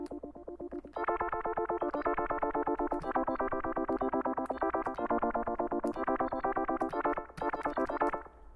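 A buzzy OP-Z synthesizer tone with a resonant filter swept by an LFO rapidly up and down in a fast, pulsing wobble, loud and continuous with brief breaks.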